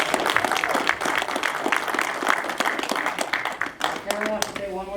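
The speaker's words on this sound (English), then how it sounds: "So give everybody a round of applause" An audience at a film premiere Q&A gives a strong round of applause, with dense, close clapping throughout and voices and a brief exclamation rising near the end.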